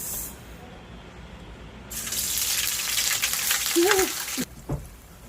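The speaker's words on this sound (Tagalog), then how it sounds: "Kaya lulutuin muna po natin siya sa cooking oil" A loud hissing sizzle of black pepper waves frying in hot cooking oil swells after a quiet start, with brief clatter and a short voice near the end.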